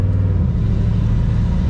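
An older car drives with a slow, hard gearshift, its engine giving a loud, steady low rumble close by throughout.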